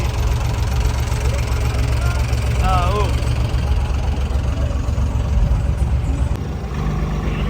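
A 3630 tractor engine idles low and steady close by in deep floodwater at Baoopur, a continuous rumble with a faint rhythmic throb, while a voice briefly speaks over it.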